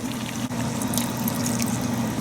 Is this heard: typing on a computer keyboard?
no